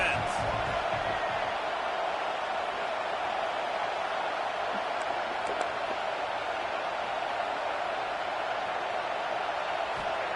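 Broad, steady roar of a stadium crowd at a football game, a constant wash of noise lasting throughout with no distinct breaks.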